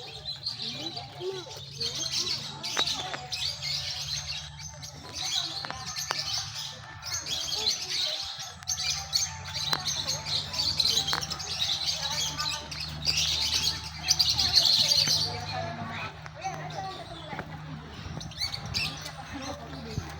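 Birds chirp, tweet and squawk continuously inside a bird dome aviary, with occasional cooing; the calls come steady and moderately close, with faint voices and crowd murmur in the background.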